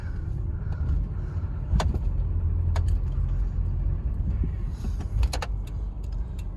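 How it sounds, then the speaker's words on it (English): A Subaru 2.5TS engine hums steadily and smoothly from inside the cabin while driving up a driveway, with a few light clicks and rattles over the low rumble. "The engine runs really smooth."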